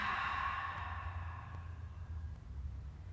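A slow, steady exhale during a family yoga breathing exercise, a soft breathy sigh that fades gradually over a few seconds, close and fairly quiet.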